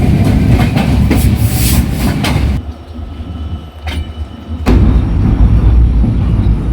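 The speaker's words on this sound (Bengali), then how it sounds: "এই যে এই ট্রেনটা হচ্ছে রূপসা এক্সপ্রেস এটা হচ্ছে চিলাহাটি খুলনা রুটে চলাচল করে" The Rupsha Express, an oil tanker train, rumbles past loudly on the Chilahati–Khulna route near the Jamuna Bridge, wheels clattering over the rails, the roar briefly dropping before surging back as more cars roll by.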